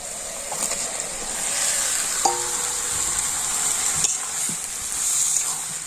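Boiled potatoes and peas go into spiced masala frying in oil, bringing a continuous loud sizzle with stirring scrapes and a few light utensil clinks, with no talking.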